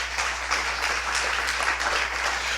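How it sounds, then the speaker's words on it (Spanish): Steady, dense clapping from a church congregation fills the whole stretch, even and sustained, with a low hum underneath. "Dele un fuerte aplauso al Señor."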